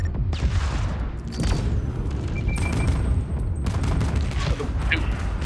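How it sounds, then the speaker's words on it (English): Sniper gunfire in the space co-op game Void Crew comes through as a few dull booming shots and rumbling impacts beneath a dense layer of game noise. "The one sniper shot the other sniper."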